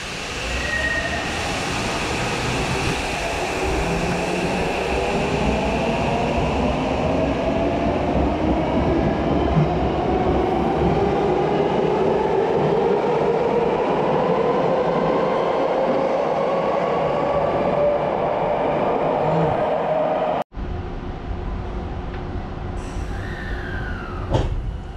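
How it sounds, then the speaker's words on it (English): Riding a Tokyo subway train toward Tokyo Station: a loud, steady rumble of wheels on track with long rising and falling whines as the car speeds up, then an abrupt drop near the end as it slows. "the subway that'll take us to Tokyo Station"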